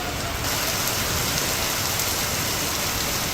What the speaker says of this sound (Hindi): बारिश हो रही है, हम देख पा रहे हैं कि झमाझम बारिश हो रही है